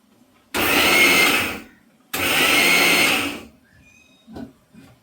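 An electric mixer grinder crushes ingredients for a jackfruit dish in two loud, steady whirring bursts, each lasting over a second with a short pause between, then falls quiet apart from faint clinks.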